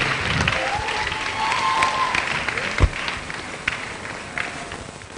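Applause welcoming a student drama team at a World Environment Day event, steady crowd clapping with a few sharp louder claps and footsteps, moderately loud in a large room.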